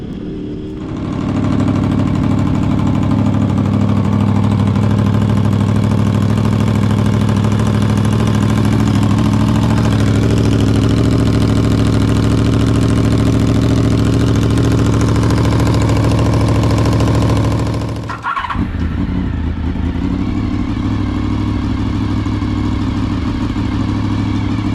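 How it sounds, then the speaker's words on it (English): A Honda VFR 750 motorcycle with a repaired exhaust idles steadily and close by, a deep even engine hum that runs for most of the stretch, then briefly cuts out before settling again. "you can hear the difference between a broken exhaust and a very functional, good exhaust."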